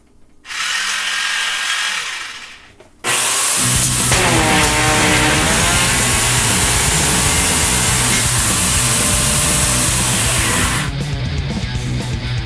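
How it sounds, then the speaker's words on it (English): A loud chainsaw mounted in a homemade toilet paper machine roars up, briefly drops, then revs hard and steady for several seconds while cutting a roll of toilet paper, finally easing back down. "I replaced the knife with a chainsaw."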